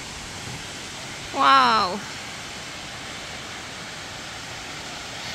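A waterfall in Guinea pours down from a mountain, giving a steady, even rushing wash that lasts throughout, while a person briefly exclaims over it.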